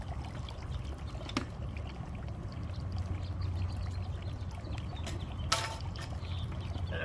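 Water drains from a pressure washer, trickling and dribbling steadily in a soft continuous pour with a couple of faint clicks, no voices present.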